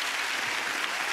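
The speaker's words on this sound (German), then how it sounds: "Ein Applaus für Anna, bitte." A TV game show studio audience applauds for Anna, a dense, steady wash of clapping lasting about a second without pause.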